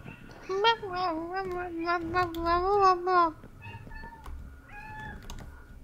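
A cat in the video game Minecraft meows, with one long, drawn-out wavering meow up close followed by a few softer, shorter meows over quiet game ambience.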